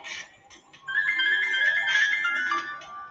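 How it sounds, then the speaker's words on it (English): A phone ringtone plays nearby, a bright electronic melody that rises after a short opening burst and sustains for about two seconds, with no voices over it. "I have a phone call."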